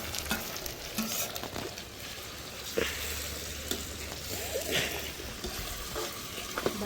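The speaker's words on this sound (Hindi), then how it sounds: "तो गाइस अब मैं इसके अंदर डाल रही हूँ टमाटर, क्योंकि हमारी प्याज बिल्कुल लाल हो गई है।" Tomatoes go into onions that have browned red, sizzling and frying in a pan on a wood-fired clay chulha. A steady close sizzle runs throughout, with scattered stirring scrapes and clinks and no voices.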